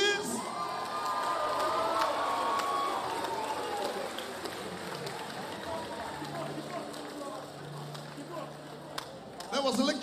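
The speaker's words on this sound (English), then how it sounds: "Huge round of applause for our volunteers." An outdoor festival stage crowd cheers, shouts and whoops for volunteers, a broad roar of voices with children shouting and some scattered clapping, steady throughout.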